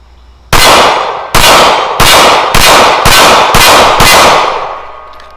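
Seven loud, sharp gunshots from a Springfield 911 pistol firing PMC ammunition, spaced about half a second apart with ringing decay between reports, very close and alone.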